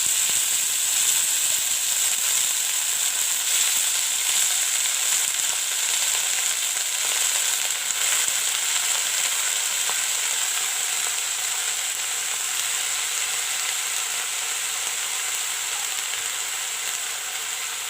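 Onion leeks fry in hot oil for Pyaj Saag bhaji, a loud, steady, unbroken hiss and sizzle that holds evenly throughout with no talking.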